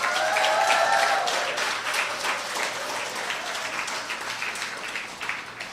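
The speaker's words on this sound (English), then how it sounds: "Please give yourselves, graduates, another round of applause." Applause from a crowd at a municipal police graduation ceremony, loud and sustained at first, then gradually thinning out over several seconds.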